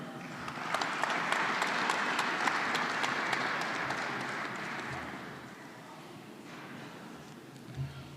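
Applause from a commencement crowd honoring master's graduates, a broad wash of clapping that is dense at first and gradually thins and fades toward the end, heard at a moderate distance.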